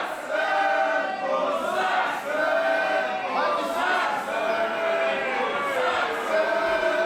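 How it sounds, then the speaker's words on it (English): Arena crowd at a wrestling ladder match, split in support between Klinger and Tischer, cheering and chanting in a steady loud roar with rising and falling waves of voices throughout. "You can hear some support for Klinger, plenty of support for Tischer as well."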